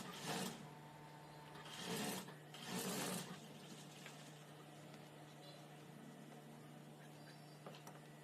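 A home sewing machine stitches blouse sleeves in three short bursts, each about half a second long, with a steady mechanical hum between them.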